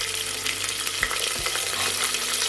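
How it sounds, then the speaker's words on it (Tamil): Lamb head meat hitting hot oil with fennel seeds and curry leaves in a pressure cooker, giving a steady broadband sizzle and crackle with a few low thumps of stirring, loud and close, no voices. "அடுத்ததாக தலக்கறி சேர்த்துடலாம்."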